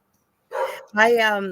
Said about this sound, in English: Oh, listen to my Bruce barking